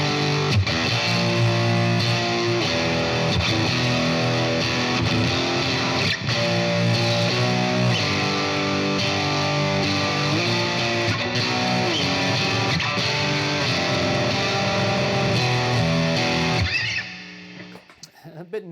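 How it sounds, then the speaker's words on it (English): Fender Stratocaster played through a Boss DS-1 distortion pedal set heavy, a sustained crunchy distorted riff of chords and notes that rings steadily for most of the stretch before cutting off and decaying to near silence. "Let's see what the DS1 sounds like. This is a Boss pedal. Got it cranked a little heavier on the distortion."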